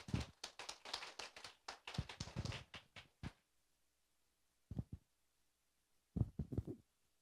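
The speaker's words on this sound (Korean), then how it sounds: "김경섭 실장님을 큰 박수로 환영해 주시기 바랍니다" Faint applause from a seminar audience welcoming a neurologist before a stroke-awareness lecture at a hospital event: a few seconds of scattered clapping, then two brief isolated bursts after a quiet pause.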